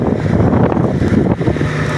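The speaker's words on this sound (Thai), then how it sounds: "ลมแรงมากๆเลยครับ" Strong wind buffeting a microphone outdoors beside a pond in a rural Thai village, a loud continuous low rumble with gusty surges throughout, no talking.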